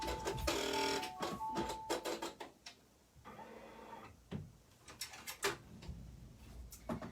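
A Bernina embroidery machine stitching a snowflake design, giving a rapid mechanical ticking and whirring in bursts with short pauses and a steadier stretch midway, close and fairly quiet with no talking.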